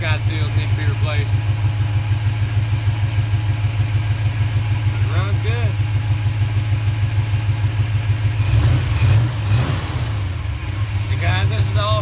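Car engine idling steadily with a four-barrel carburetor fitted to a two-barrel intake, stock internals and worn valve guide seals, a rhythmic lumpy chug throughout with a brief blip of revs, while someone talks over it.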